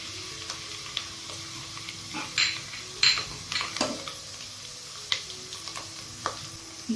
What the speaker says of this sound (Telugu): ఆయిల్ వేడి అయ్యాక ఆనియన్ వేస్తున్నా.